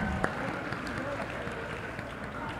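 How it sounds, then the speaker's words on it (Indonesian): A seminar audience at an anti-bullying event claps in a steady, dense wash of applause that sounds somewhat distant, with voices talking over it. "Oke, tepuk tangan buat teman-teman semuanya."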